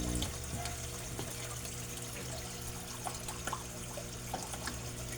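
Water from a submersible pump pouring over a koi pond waterfall, a faint, continuous splashing and trickling with small irregular drips, heard at a distance.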